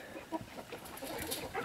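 Chickens cluck softly in short, scattered bursts, faint and somewhat distant over a low background hiss.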